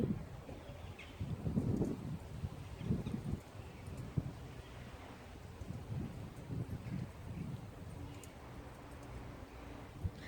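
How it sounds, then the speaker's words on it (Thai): Strong wind blows through a backyard garden, a steady low rumbling buffet with soft rustling, moderate in level and continuous, with no voices. "มีลมเยอะนะคะลมแรง"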